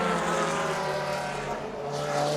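Loud, steady engine roar of race cars, including NASCAR, Cadillac and Corvette entries, at Le Mans, with a sustained droning tone and continuous mechanical noise throughout.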